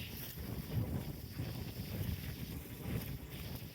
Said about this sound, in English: You probably can't hear me because it's 60-mile-an-hour winds.